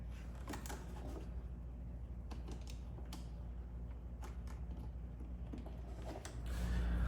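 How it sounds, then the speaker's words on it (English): A thin flathead screwdriver pries plastic clips loose on a Dodge Challenger during an intake install, giving soft creaks and a few sharp clicks and snaps over a steady low background hum, close and quiet with no talking. "best way to remove these is just with a thin flathead"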